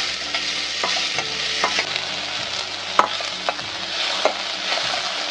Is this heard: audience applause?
no